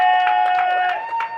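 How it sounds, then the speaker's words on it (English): A crowd at a wheelchair tennis quad doubles final claps in a quick, steady rhythm, the cheering bursts coming in regular pulses over a constant high tone. "now we can Boy. start to hear the American crowd get into it"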